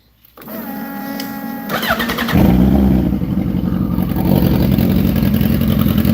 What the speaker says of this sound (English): Oh, the MS3 bike, by the way.